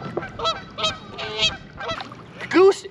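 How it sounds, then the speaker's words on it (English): A Canada goose on the White River near Lake Taneycomo honks repeatedly at close range, giving a string of about six nasal calls in quick succession, the last one loudest. "Have you ever seen a goose before?"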